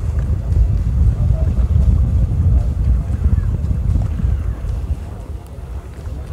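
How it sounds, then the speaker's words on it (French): A Bavaria sailboat sets off under sail, with broad low rumbling wind buffeting and water rush around the hull, steady and close throughout. "Un super départ à la voile."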